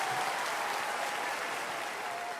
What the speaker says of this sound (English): Give him a round of applause there.